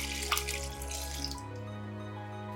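Cooled coconut milk, 500 ml, poured into cake batter for pumpkin kue lumpur, a close steady liquid stream that runs for about a second and a half, then trails off.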